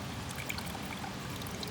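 Water from a waterfall pours steadily into a water bag, a continuous trickling splash that holds even and unbroken throughout, fairly close with no talk.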